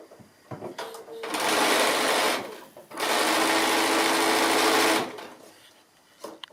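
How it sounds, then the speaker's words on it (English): Sewing machine stitching around the curved edges of a fabric Christmas basket, running in two steady loud whirring bursts of about a second and two seconds with a short pause between, quiet handling before and after. "So now we can go all the way around, just leaving the straight edge open all the times, the curved ones we're sewing."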